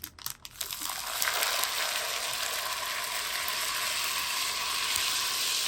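Mustard seeds spluttering in hot oil for mango chutney and pickle: a dense, steady crackling sizzle that begins with a few sharp pops and holds at a constant, fairly loud level with no talk.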